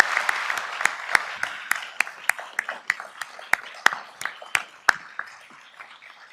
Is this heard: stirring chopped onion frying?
no